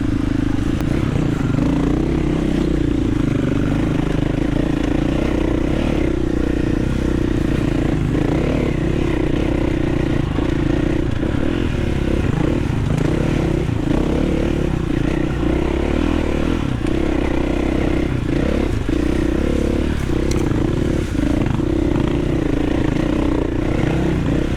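An XR dirt bike labors up a mountain singletrack, its engine droning steadily and close throughout with constant rattling and scraping from the trail, no voices over the machine.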